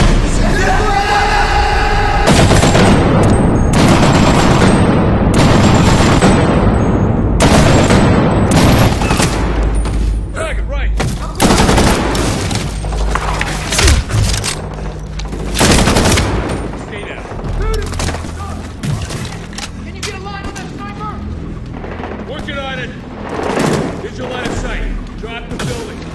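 Video game gunfire in Medal of Honor Warfighter: loud, repeated gunshot bursts and automatic fire with booms throughout, dense at first then more scattered, with voices talking in between.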